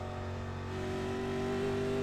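A 1987 stock car engine roaring at racing speed in a NASCAR Winston Cup Series video game at Michigan, a continuous loud, steady drone with a rising tone and no talk.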